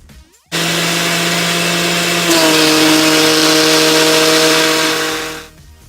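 A countertop blender whirs a smoothie on its mix setting. It starts abruptly, holds a loud steady motor whine that jumps to a higher, harsher pitch partway through, then winds down and stops.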